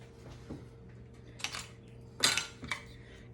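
Glass canning jar rims are wiped ahead of lidding a batch of home-canned sloppy joe, giving a few brief scraping and clinking bursts of cloth and glass over a low steady hum, with no talk.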